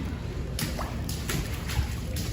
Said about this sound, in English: Do you hear that? That's my boots sloshing around.